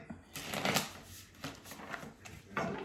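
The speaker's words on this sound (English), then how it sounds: "So let me shuffle this once." Tarot cards are shuffled close by in a few quick riffling bursts, each a crisp fluttering rustle separated by short pauses.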